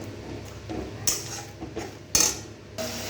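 Fish in a pan being stirred with cumin, coriander and chili powder, a few sharp metal scrapes and clinks of the spoon against the pan at irregular intervals, close by, over a faint background sizzle.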